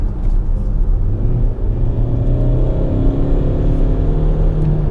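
A Kia Soul diesel engine drones and rumbles steadily from inside the cabin, its low grumble slowly rising in pitch as it pulls through second gear.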